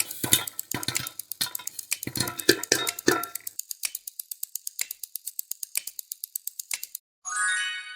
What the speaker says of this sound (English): That was the sound of popcorn popping.